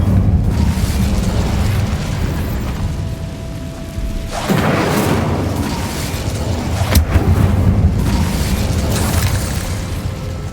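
An Incendio fire spell in Hogwarts Legacy erupts in a loud whooshing blast partway through, followed by a sharp crack and more fiery bursts, all over a steady rumbling game background.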